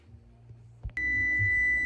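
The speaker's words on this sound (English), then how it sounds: "Okay, our timer is going off." A kitchen timer goes off with a sustained high electronic beep tone, starting abruptly after a couple of small clicks and continuing steadily, close and clear.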